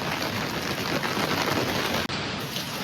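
Heavy rain pours down outside a house during a dense downpour, a loud, continuous hiss of drops on surfaces with one very brief drop-out near the end and no voices.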